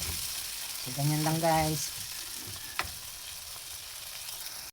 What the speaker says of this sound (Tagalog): So ayan, buhos na natin dyan. At haluin natin.